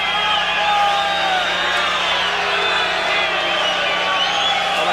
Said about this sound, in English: Crowd booing here, and that is without cause